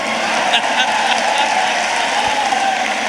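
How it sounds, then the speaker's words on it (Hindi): Applause from the audience at a Hindi comedy poetry mushaira, a steady dense wash of clapping that fills the whole stretch at close, even loudness. "आप लोग जोरदार तालियां बजाइए।"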